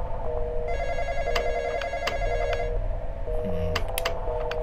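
A telephone rings inside a video game, its electronic trilling bell repeating over a low background hum, with a few other game tones near the end.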